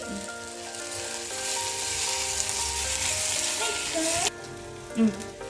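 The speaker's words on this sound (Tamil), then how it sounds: "தக்காளி ஆட் பண்ணியாச்சு ஜிஞ்சர் காலிக் பேஸ்ட் ஜிஞ்சர் காலிக் பேஸ்ட்" Tomato and ginger garlic paste sizzle steadily in hot oil for egg gravy, a close, continuous frying hiss with a brief stir and clink near the end.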